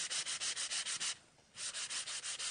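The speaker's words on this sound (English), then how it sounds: "And I'm going to grab my sanding tool." A sanding tool rubs back and forth over embossed paper in a crafting session, making steady rhythmic scratchy strokes about five per second, then a brief pause and more strokes, close and alone.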